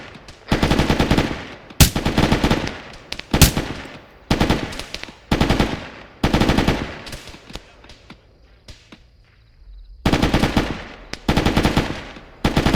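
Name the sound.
troops firing guns in a military video game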